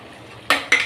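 Ginger garlic paste being stirred in a metal pan, with a spoon scraping and clinking against the pan in three short, close bursts over a faint background, no talking.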